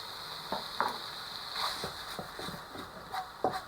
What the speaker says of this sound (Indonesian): Kita aduk terus sampai mengering.